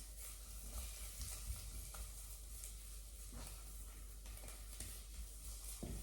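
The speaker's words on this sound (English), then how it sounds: "what we're just doing here is we're just frying the paste" Curry paste sizzles and hisses steadily in a hot pan, with occasional scraping and stirring sounds, close up and without talk.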